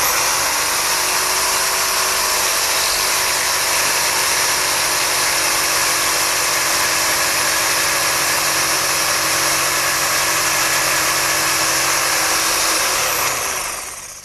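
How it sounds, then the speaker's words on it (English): A jigsaw cuts notches into wood stock for step stool rails, a loud continuous high-pitched buzzing whine held steadily for about thirteen seconds before cutting off, with no talking. "I'll make those notches for my rails starting with my jigsaw"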